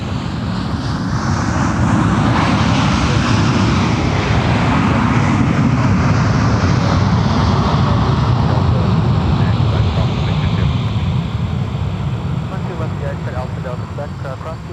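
A jet airliner landing on runway 12 right at Minneapolis–St. Paul airport, a loud steady engine roar sustained throughout with rumbling low end, alongside radio chatter from the control tower.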